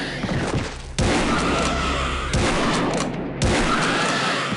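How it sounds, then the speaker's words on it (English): A 12 gauge Winchester shotgun fired in an old-school FPS game, with three loud booming blasts spaced roughly a second and a half apart, each leaving a long rumbling tail. "effort they put in to digitize a 12 gauge Winchester for you to blast mythical monsters"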